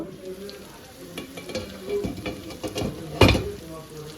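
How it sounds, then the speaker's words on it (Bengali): Beef and cabbage sizzling in a pan as they are stirred, with a steady frying hiss and a few scraping stirs, one sharp loud clatter near the end. "এর ফাঁক দিয়ে আমি আরো দুই তিনবার নেড়ে দিচ্ছি"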